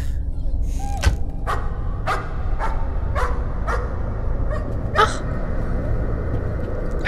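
A dog in the Layers of Fear video game barks repeatedly in sharp, evenly spaced yaps over a low ambient rumble, fairly close and persistent.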